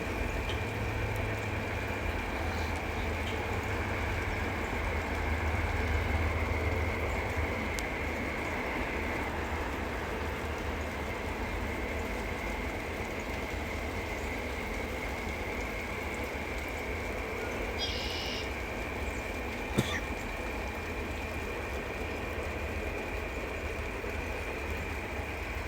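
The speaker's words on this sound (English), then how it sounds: "it's northbound Norfolk Southern train" A northbound Norfolk Southern freight train rolls past near a rail yard, a steady continuous rumble and clatter of cars lasting the whole stretch, with one sharp metallic clank late on.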